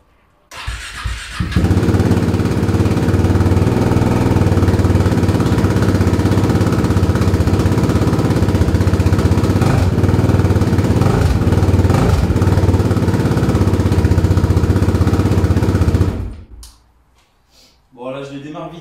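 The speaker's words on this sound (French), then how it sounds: "Alors la KTM, je vais la démarrer, ça va me casser les murs." A KTM motorcycle kicks into life indoors in a garage and runs loud and close with a steady rough roar for about fifteen seconds before cutting off, with a voice speaking briefly afterward.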